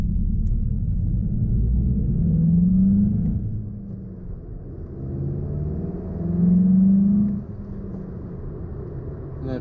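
A 2019 Volkswagen Jetta GLI heard from inside while driving at night, with a low engine rumble that rises twice in smooth revving surges before settling back to a steady cruising drone.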